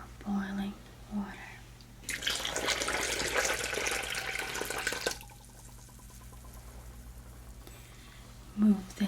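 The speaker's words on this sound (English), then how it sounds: "Okay, so now we're going to go ahead and add our boiling water." Boiling water pours steadily into strawberry gelatin powder for about three seconds, a bright, close splashing stream framed by soft whispered talk before and after.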